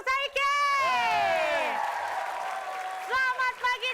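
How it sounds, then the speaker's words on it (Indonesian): Studio audience at an Indonesian television comedy show applauds and cheers, with whoops and a loud drawn-out voice over the crowd noise, which fades midway before voices return. "Tepuk tangan."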